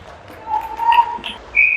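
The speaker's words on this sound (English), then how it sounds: "Whistle is blown." A referee's whistle blows during an ice hockey game between Ottawa Senators and Clarington Flames, giving short shrill tones amid arena noise, with a final sharp blast near the end.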